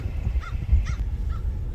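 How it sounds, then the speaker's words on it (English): Crows caw among the trees of a Florida state park campground, three short harsh calls spaced apart over a low steady background rumble, moderately near. "Lay in the hammock and listen to those birds."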